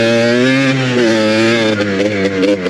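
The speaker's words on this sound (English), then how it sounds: "Ethan, or Cardboard Creeper Garage, owned this four-wheeler." A Yamaha Blaster four-wheeler's small engine runs steadily close by, a buzzy, harmonic drone with a few revs and slight clatter toward the end, and no voices.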